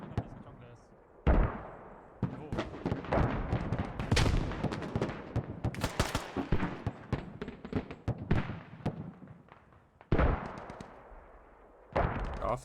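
Battle in the video game Squad during a tournament final: bursts of automatic rifle and heavy fire crack near and far, with loud blasts punctuating it, while someone talks over the action.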